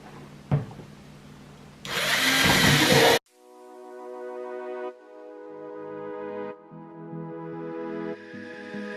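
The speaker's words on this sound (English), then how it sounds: "I'm gonna drill about 6 holes on the outside, whatever I feel like is enough drainage" A power drill bores drainage holes through a plant pot, a brief rev near the start, then a loud broadband burst of drilling for about a second and a half, followed by a steadier whining motor hum that shifts pitch several times.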